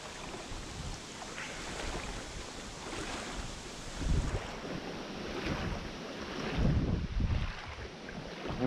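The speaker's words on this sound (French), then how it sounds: "Donc le vent se lève énormément." Strong wind blows outdoors while fishing near water, a loud broadband rush with heavy gusts buffeting the microphone, swelling and easing across the stretch, with no talk.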